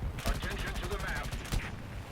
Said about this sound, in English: A little bit of a strafing run on 2 tanks just to see if I can potentially get a little bit of assist there.